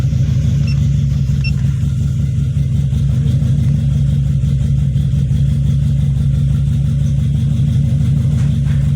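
Toyota Vios engine running after starting, a steady low rumbling idle with a rapid pulsing beat, close and continuous with no talk.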